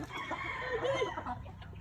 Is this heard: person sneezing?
no